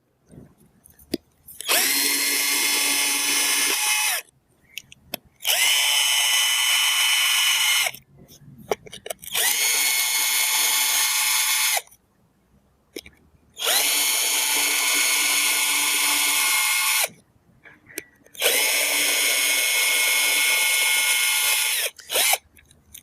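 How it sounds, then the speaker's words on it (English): A power drill whines loudly drilling holes through tile grout lines in five long bursts of about three seconds each, separated by short pauses with faint handling noise. "I'll take my drill. We'll drill some holes through the grout line here."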